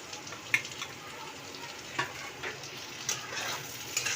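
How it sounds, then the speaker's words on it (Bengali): Eggplant pieces frying in oil with onions and chopped tomato, stirred in a pan: a quiet steady sizzle broken by scattered light spatula scrapes and clinks, no voices. "কিছুক্ষণ এরকম নাড়াচাড়া করতে করতে বেগুনটা হালকা যখন লাল হবে"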